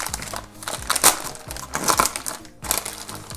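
A heat-sealed plastic packet is torn and crinkled open, giving several bursts of loud crackling and rustling close to the microphone.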